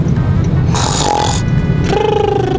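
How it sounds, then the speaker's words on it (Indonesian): A person snores while asleep, rough breathy rasps with a strained, grunting quality in two close bursts over a steady low background rumble. "Wah, dia tidur. Iya, malah ngorok."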